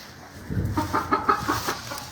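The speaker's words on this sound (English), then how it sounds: "Here's the other chicken." A chicken in a farm stall clucks in a short series of close, rhythmic notes after a quiet start, with no talk over it.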